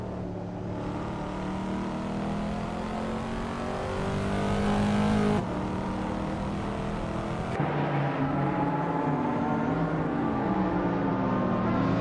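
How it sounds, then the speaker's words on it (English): Race cars roar around a track in an AI car racing video game, engines droning and rising in pitch as they accelerate, with layered overlapping motors and sudden shifts as the scene cuts, loud and continuous. "We're all set to watch some exciting AI car races"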